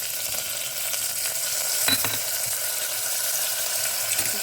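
Chopped onion and tomato with crushed ginger and garlic sautéing in hot oil give a steady, close frying hiss with a couple of soft stirring knocks near the two-second mark.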